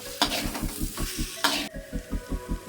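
Turmeric, chilli and Kashmiri chilli powder frying in oil for potato dum, stirred with quick rhythmic scraping strokes about five per second over a loud, close sizzle that flares twice, with no speech.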